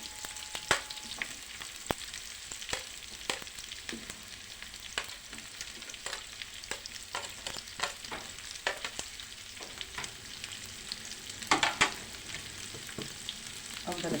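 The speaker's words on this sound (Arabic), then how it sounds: "انزل البصل بس كده الاول ياخد معايا تشويحه" Onions sautéing in a pan after chicken was browned, a steady frying sizzle with frequent scraping stir strokes and utensil clicks, close and continuous with no talking.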